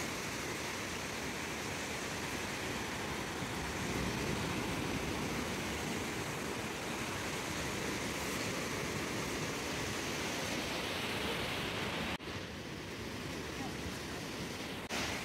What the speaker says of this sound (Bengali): এখন সমুদ্র তুলনামূলক একটু বেশি উত্তাল আছে, জলও অনেকটাই এগিয়ে এসে গিয়েছে।